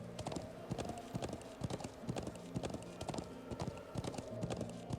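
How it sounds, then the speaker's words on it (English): Horses gallop in the video game Trails of Cold Steel, with rapid, rhythmic hoofbeats thudding over a steady bed of game music and ambience. "At least we can sprint on our horses, right?"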